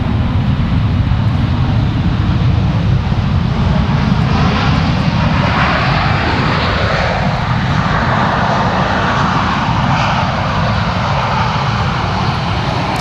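A FedEx jet arriving from Memphis at Raleigh-Durham airport roars loudly and steadily, its engine whine sweeping in pitch as it passes nearby.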